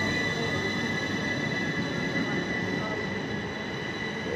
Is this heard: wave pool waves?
no